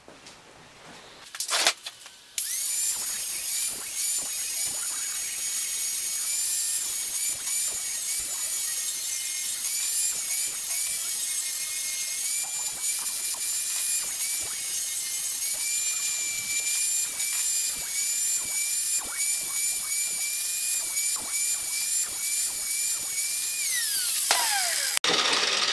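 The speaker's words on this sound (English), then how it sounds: "Now I'll clean it up with the flapper disc." A flap disc grinder cleans up a metal e-bike pannier rack, a loud, close, steady high whine after a brief start, with scraping variation as it works the metal and a falling pitch as it spins down near the end.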